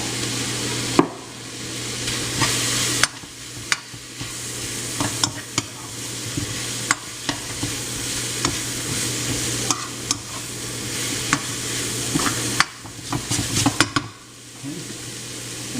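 Chopped steak and vegetables with garlic sizzle loudly in a pan while a utensil stirs and scrapes them, making repeated knocks against the pan over a steady frying hiss, with no talking.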